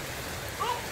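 Rain falls steadily outdoors, a continuous hiss of drops on surfaces with a brief faint tonal squeak near the end.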